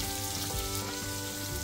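Medium-cut onion frying in hot oil for a shakshuka, a steady close sizzle with soft crackles and no voices.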